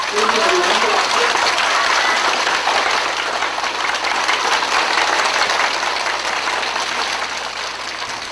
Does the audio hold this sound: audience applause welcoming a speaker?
yes